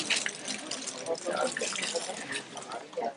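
Holy water runs from a tap in a steady splashing stream, close by, with people talking over it.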